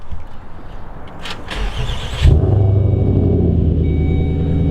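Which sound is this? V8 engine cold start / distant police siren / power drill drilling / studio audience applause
V8 engine cold start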